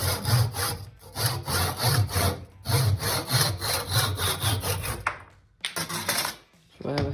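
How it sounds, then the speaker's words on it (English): Rhythmic back-and-forth sawing 3 to 4 inches off a piece of wood for a topwater fishing lure, steady rasping strokes close by, with a brief pause and a couple of clunks near the end. "So I'm going to start off by sawing about 3 to 4 inches off again."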